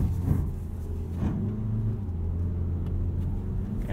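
A 2018 Mazda CX-3 driving on winter roads, with a steady low engine and road rumble heard from inside the cabin. Engine tone rises and falls slightly but stays continuous throughout.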